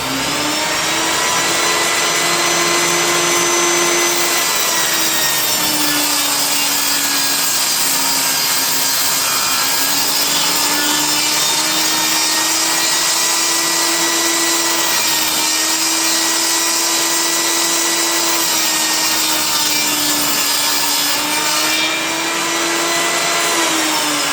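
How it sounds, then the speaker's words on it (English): A table saw rips 3/4 inch plywood furring strips in a loud, continuous whine whose pitch dips and rises slightly as the wood feeds through. It sounds close and unbroken for over twenty seconds with no talking. "So here I am ripping some 3/4 inch plywood furring strips."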